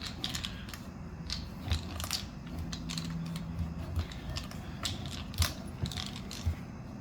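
Metal being cut on a Kinekt suspension seat post for a BMX bike, a close, steady grinding rasp with repeated sharp metallic clicks and scrapes scattered throughout.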